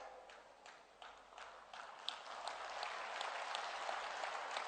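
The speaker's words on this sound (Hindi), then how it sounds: "अरे भाई तुरंत ताली मत बजाइए" Applause from an audience at a statue unveiling of Prithviraj Chauhan attended by India's defence minister, a broad wash of many hands clapping that builds steadily and grows louder toward the end, with no talking over it.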